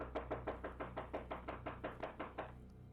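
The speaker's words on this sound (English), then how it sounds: "I'm knocking on the door, there's nobody answering" A hand knocks on a house door in a rapid, even series of about fourteen sharp raps, close and clear with nothing else heard.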